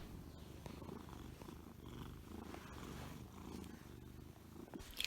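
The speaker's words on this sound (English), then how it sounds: "A cat purring is piano." A house cat purring softly and steadily, a low continuous rumble held close and quiet throughout, with a faint brief sound near the end.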